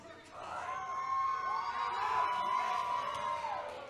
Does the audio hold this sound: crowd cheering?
yes